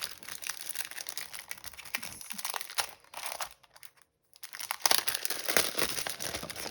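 Plastic packaging crinkling as a pack of square cards and envelopes is opened, close crackling and rustling with a brief pause partway through before the crinkling resumes.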